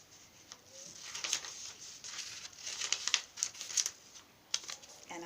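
Scissors snip through paper, cutting out a paper dinosaur along dotted lines: a string of soft, close crisp cuts and crinkles in a quiet room.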